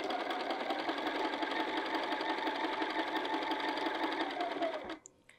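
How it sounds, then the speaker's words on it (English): A sewing machine stitches a seam on a canvas field bag, running down into the corner. It hums in a steady, even whir for about five seconds, then stops with a few small clicks. "And then I just stitch right down into the corner."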